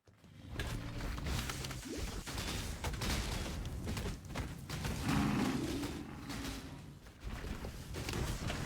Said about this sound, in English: There's a lot of explosions on the screen from time to time.